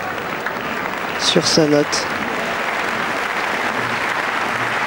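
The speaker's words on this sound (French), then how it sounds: "Le public applaudit pour essayer de le remotiver pour qu'il finisse son programme avec le moins de fautes possible." A world-championship arena crowd applauds steadily after gymnast Yang Tae Seok falls during his horizontal bar routine at the 2007 Stuttgart worlds, a continuous wash of clapping under a commentator's voice.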